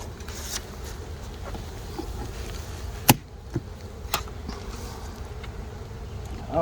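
Honeybees in an opened spring hive with an upper box, giving a steady low buzzing hum close by, broken by a few sharp knocks and clicks from handling the frames.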